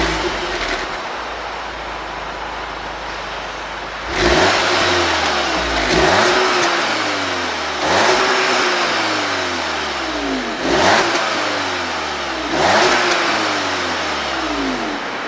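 An Audi S3 exhaust in comfort mode fires up and then gives several sharp revs roughly every two seconds, each rise falling back to a steady idle, loud and close with no talking.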